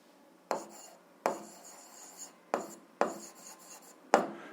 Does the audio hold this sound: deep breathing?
no